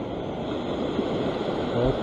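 Ocean waves wash steadily over sea rocks on a rocky shore near Sydney while someone fishes there, giving a constant, moderately loud rushing surf with wind noise on the microphone.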